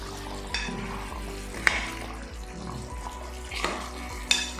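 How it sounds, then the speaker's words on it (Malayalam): Duck gravy thickened with ground cashew paste is stirred in a pan, giving a soft steady simmer with a few scraping strokes of the spoon at intervals, close and moderately quiet, with no voices. "നന്നായിട്ടൊന്ന് മിക്സ് ചെയ്യാം."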